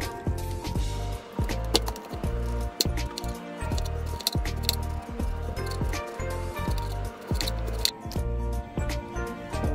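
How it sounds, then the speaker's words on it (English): A knife slices a cucumber for a crunchy vegetable salad, producing quick, regular crisp chops against the board, repeated steadily throughout with steady background music underneath. "And then we're gonna cut our cucumber."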